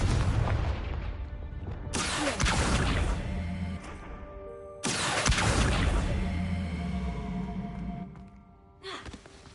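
Confringo explosion spell cast in the Hogwarts Legacy video game, two loud booming blasts with whooshing bursts a few seconds apart, each fading into a rumbling tail, followed by a short softer impact near the end.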